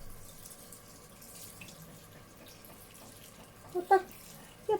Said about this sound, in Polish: tak zalewam po prostu, żeby je ozalać